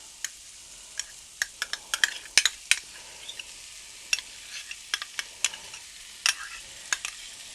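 A spoon stirs sour cream into a stroganoff mixture in a pan with a faint sizzle underneath, giving irregular sharp clinks and scrapes against the pan, quiet and close.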